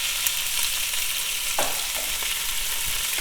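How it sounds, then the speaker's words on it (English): Meat for green chili fries in a pan with a broad, steady sizzle, close and constant, and a few soft scraping stirs over it, without talk. "now we're gonna put some of that meat in here. You hear that? That's the sound."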